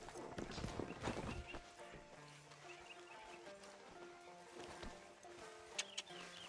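A horse's hooves clip-clop at a camp in Red Dead Redemption 2. The hoofbeats are soft and fairly quiet over a low game ambience.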